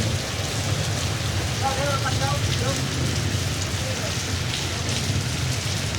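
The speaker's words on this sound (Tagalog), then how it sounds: "lumakas na ang ulan" Continuous heavy rain pouring down with a constant hiss and low rumble, faint voices briefly audible beneath it.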